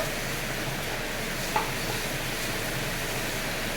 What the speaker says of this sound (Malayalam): ഇത് നല്ലവണ്ണം ഒന്ന് വഴറ്റിയെടുത്തിട്ട്